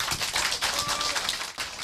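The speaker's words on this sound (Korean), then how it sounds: "박수를 부탁드립니다" Audience applause at a speech for the National Sovereignty Party, a Korean political party: a dense, steady patter of many hands clapping, close and even throughout.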